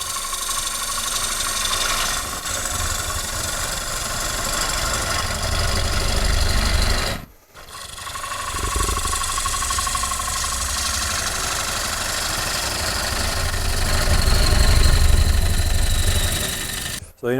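A gouge takes roughing cuts on a wooden bowl spinning on a lathe, giving a steady loud rumbling drone with a brief break midway before the cutting resumes and swells near the end.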